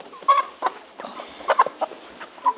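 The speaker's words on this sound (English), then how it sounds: "Now I have a pet chicken for a minute." A pet hen held close by hand clucks in a series of short, throaty notes and soft grumbles at an uneven rhythm, fairly near and clear with no talking.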